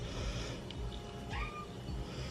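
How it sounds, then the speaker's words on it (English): A domestic cat meows once with a rising then falling cry in a kitchen where a sandwich is being prepared, set against a steady low background hum and no talking. "Oh, told you there's a cat."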